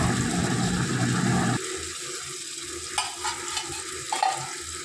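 Chopped tomatoes sizzle and crackle in hot oil while being stirred for vegetable biryani, with occasional scraping clinks of a spoon against the pan.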